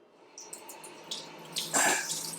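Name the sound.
tomatoes being washed under running tap water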